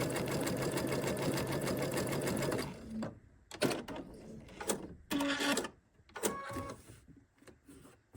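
A sewing machine stitching zig zag around appliqué shapes, a steady fast mechanical whir for a few seconds that stops, followed by several short bursts of stitching and clicks, close up with no talk.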